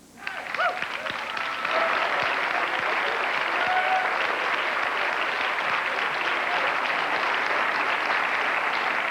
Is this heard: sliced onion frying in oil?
no